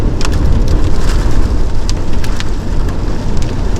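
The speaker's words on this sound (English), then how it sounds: "That's got to be hail." Hail in a severe thunderstorm pounds down around a truck camper, a loud, dense, continuous pelting roar close by, scattered with sharper clicking impacts throughout.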